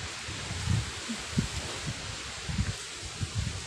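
Wind rustling the leaves of an herb garden planted in a single bed, a steady soft outdoor wash with low gusty buffeting against the microphone, no talking.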